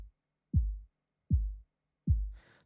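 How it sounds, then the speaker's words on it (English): A hard, processed kick drum sample in Pro Tools, built to resemble a heartbeat, hits three times in a slow, even pulse, each thud deep and booming with a quick decay, alone and close. "Well, this is the hard kick."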